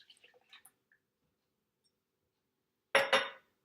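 An egg and milk go into a large mixing bowl: faint clinks and drips at first, a quiet gap, then a brief, louder wet splash near the end.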